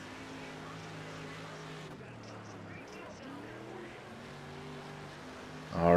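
A dirt track racing car in a World of Outlaws video game drones through turns 3 and 4 at Elm Creek, its engine pitch wavering and shifting under a voice talking over it.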